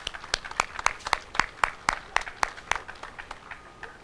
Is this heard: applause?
yes